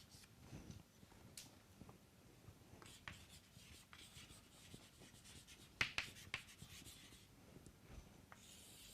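Chalk or pen writing out a strain transformation equation on a board, a soft scratchy tapping and stroking that runs on and off with sharper ticks, faint and close with no talking.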